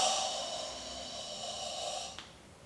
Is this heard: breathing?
yes